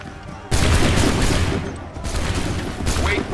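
A musket volley in Assassin's Creed 3 erupts abruptly on command, loud and dense, fading, then a second ragged burst of shots rolls in, with shouted orders around it.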